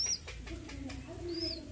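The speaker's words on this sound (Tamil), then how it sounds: "இதான் எங்கள் வீட்டு புறா குஞ்சு." A young pigeon chick kept at home gives thin, high chirping calls, one brief cheep at the start and a longer piping call near the end, over a low background rumble.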